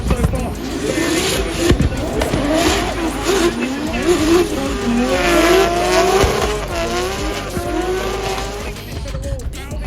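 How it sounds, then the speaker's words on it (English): Toyota GR86 drift car at a DriftMasters competition, engine revving and wailing through shifting pitches with tire squeal and skidding, loud and close, under continuous commentary. "the Finnish driver Juha Rintanen, but there's no evading the power and the speed of that GR86"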